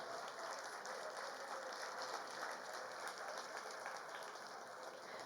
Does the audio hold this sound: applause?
yes